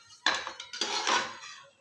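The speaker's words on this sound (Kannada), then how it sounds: "ಇವಾಗ ಸೇವು ತಿರುವು ಹಾಕ್ಕೊಳ್ಳೋಣ." Frying sev in a pan of oil being turned over with a metal utensil, giving a few clattering scrapes and knocks against the pan, close and fairly loud with no talk.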